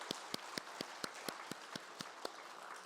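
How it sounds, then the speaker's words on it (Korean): A church congregation claps to honor volunteers during a worship service, the sparse, evenly spaced claps sounding clear and fairly close as a brief round of applause. "우리 박수로 격려하도록 하겠습니다."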